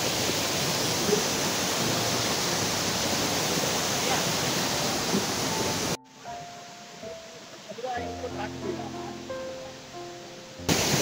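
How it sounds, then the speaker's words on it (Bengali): A waterfall in the Darjeeling rock garden rushes as a loud, steady hiss for about six seconds, then cuts away to quieter surroundings with scattered faint tones. "ঝর্ণার অনেকটা কাছেই চলে এসেছে"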